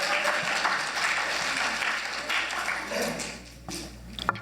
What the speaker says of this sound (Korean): 우리 30대 설인, 우리 박수 한번 쳐주죠.